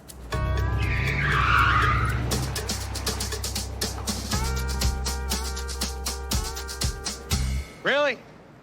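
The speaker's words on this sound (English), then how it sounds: "I hear someone attempted to do donuts outside." A car attempting donuts outside, its tires skidding and squealing over a roaring engine for several seconds before the noise breaks up and fades.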